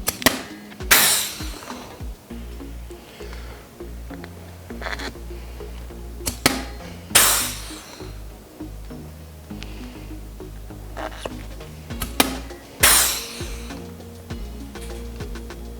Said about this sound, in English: this is a Chicago pneumatic rivet puller